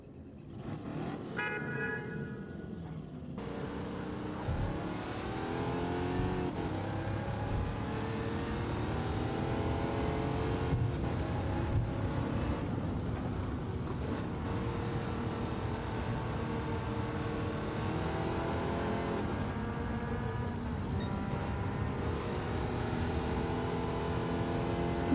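Racing cars in the video game Gran Turismo rev and roar past, engine tones rising and falling continuously across the whole stretch, fairly loud and close with overlapping engines and no talk.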